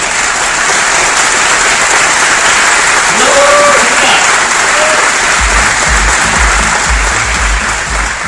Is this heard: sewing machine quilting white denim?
no